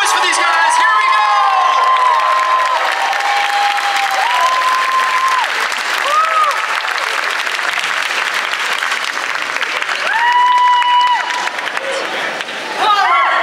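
A convention audience applauds and cheers for guests, including stuntman Dick Warlock, with loud sustained clapping, whoops and shouts, and a voice rising above the crowd roar now and then.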